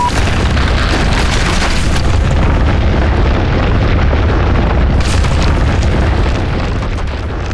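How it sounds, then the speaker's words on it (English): A bomb detonating in the distance on a mountainside, heard as a loud, sustained, rumbling boom that fills the whole stretch with dense low roar and no talk. "it was the bomb detonating in the distance"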